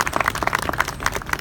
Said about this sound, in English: So a round of applause for these fine folks.